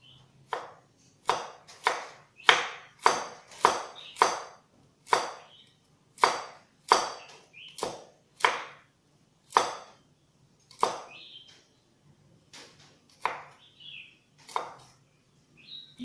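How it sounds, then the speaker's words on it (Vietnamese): A knife shreds peeled ambarella (toad fruit) flesh into strips on a cutting board. The crisp chops come close and steady in quick bursts, with a short pause before a last few sparse cuts. "Bây giờ các bạn sẽ xắt sợi những cái trái cóc này."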